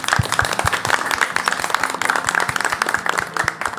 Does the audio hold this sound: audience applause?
yes